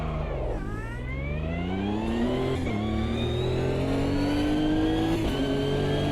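Nissan GT3 race car in a racing video game accelerating hard, engine climbing steadily through the revs with a few quick gear changes, loud and close throughout.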